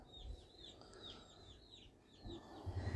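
A hen clucks in a series of soft, repeated low calls nearby, with faint rustling and a few soft thumps toward the end.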